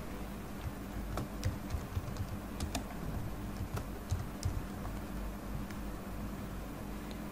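Computer keyboard typing while entering a name for a new user in Azure Active Directory: soft, irregular clicks at moderate distance over a steady hiss of background noise.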